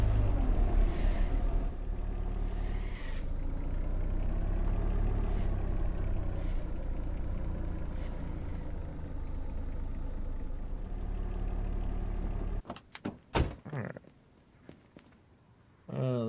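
In a video game, a Tempest car engine idles with a steady mid-to-low rumble and slight pitch shifts for about twelve seconds, then cuts to scattered clunks and bursts.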